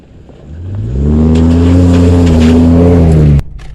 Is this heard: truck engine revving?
yes